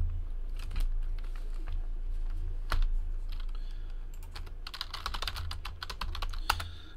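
Typing on a computer keyboard at close range, bursts of quick clicking keystrokes in irregular runs over a low steady room hum.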